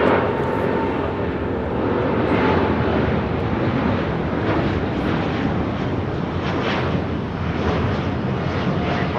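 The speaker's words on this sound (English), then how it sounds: "This is All Nippon Airways Flight 125 Heavy, operated by Air Japan, taking off to Tokyo Haneda on a 787-8 Dreamliner." An All Nippon Airways Boeing 787-8 Dreamliner, operated by Air Japan, roars loudly and steadily as it takes off at LAX, a broad continuous jet engine rumble close by that holds for the whole stretch.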